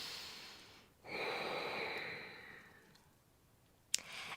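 Someone demonstrates a slow birth breath: a long, soft, airy exhale that builds, holds steady, and then fades away, followed by a brief sharp click, heard alone and close.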